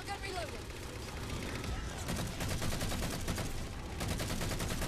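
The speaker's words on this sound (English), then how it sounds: "Target those phantoms for the railgun. I wanna see this. I wanna see it shoot it down." Gunfire and explosive blasts from a Halo 4 battle, with a railgun firing at Phantom dropships; dense, continuous rapid shots and booms pile up throughout, loud and busy, with a voice talking underneath.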